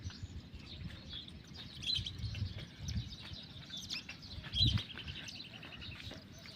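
Small birds, pigeons and sparrows, chirp and tweet softly in the distance, with faint outdoor background noise in a village.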